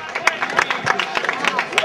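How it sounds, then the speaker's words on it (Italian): Applause from the audience at a dance competition, brief scattered clapping mixed with crowd murmur while a voice talks over it. "Facciamo anche lui un grande applauso."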